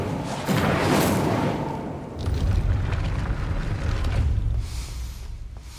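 A fire spell is cast in a Harry Potter video game to open a gate: a loud whooshing burst rises, then a rumbling roar of flame carries on for several seconds with no talk over it.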